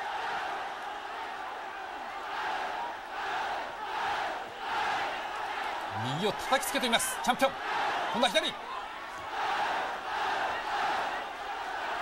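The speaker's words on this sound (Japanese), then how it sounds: "うわすごい応援です、チャンピオンへの声援" Boxing crowd roaring in support of the champion during a WBC 108 lb title fight in Thailand: a loud, sustained wall of cheering and shouting that swells and surges, with a commentator talking excitedly over it.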